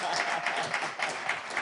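An audience applauds steadily and fairly loudly throughout at a live gathering, a dense wash of clapping with no break.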